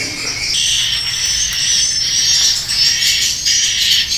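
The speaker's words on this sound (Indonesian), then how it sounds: "Burung walet ya." Dense, continuous high-pitched chirping and twittering of many swiftlets calling inside an indoor swiftlet house, loud and close with a steady overlapping chorus.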